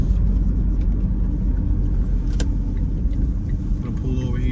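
Steady low car engine rumble and road noise while driving slowly through a small abandoned downtown in Coffeeville, Mississippi, continuous and close, with a brief sharp click partway through.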